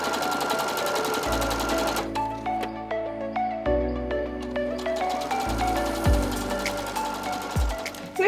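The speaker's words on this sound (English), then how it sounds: "we're just going to sew these little ones together so that we have 4 of these little 4 patches" Sewing machine joining small quilt patches into four-patch units for a summer quilt block, running steadily at close range with a continuous motor whir and rapid stitching, starting and stopping between chained pieces, with no talk.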